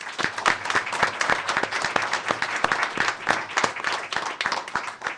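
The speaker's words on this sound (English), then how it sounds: "Another round of applause." A room of family members and guests at a school board meeting applauds steadily, many hands clapping at once in a dense, even patter with a few sharper claps standing out.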